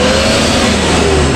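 A Dodge Challenger V6 engine revs close by, a loud, sustained mid-pitched engine roar filling the whole brief moment with no talk.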